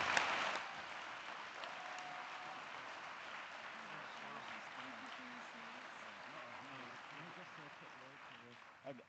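An audience claps steadily through a closing plenary and awards session at a coral reef conference, loudest at the start and then settling into sustained applause, with a voice speaking faintly underneath.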